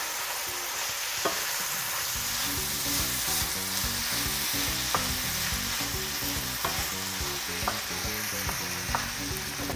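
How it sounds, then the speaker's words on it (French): Tomatoes sizzle steadily in a hot pan for a Réunion rougail saucisse while a spoon stirs them with repeated scraping knocks, close and continuous, with no talking. "On mélange. On ajoute nos tomates."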